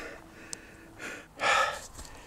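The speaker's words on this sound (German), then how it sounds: "noch bin ich am Schnaufen wie Ochs" A hiker out of breath after a steep climb up to the Eisenberg and Hohenfreyberg castle ruins in the Allgäu gives a few heavy breaths, the last one the loudest and rasping, close to the mic.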